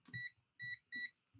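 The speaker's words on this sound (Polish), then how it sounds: "On mi pikał, że się zaraz wyłączy, także go przekładam." A digital multimeter sounds its low-battery warning before auto shutoff as three short, high electronic beeps at an even rhythm, close but quiet, with no speech.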